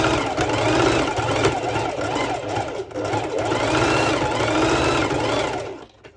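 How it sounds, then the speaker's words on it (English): A sewing machine runs back and forth over fabric layers in a continuous, loud, close whirring that shifts pitch as the direction changes, fading near the end; no voices. "Back and forth stitching."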